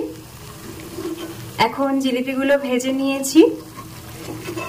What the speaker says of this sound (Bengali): তো তেলটা মোটামুটি ধোঁয়া ওঠার আগেই আমি জিলিপিগুলো দিয়ে ভাজা শুরু করব।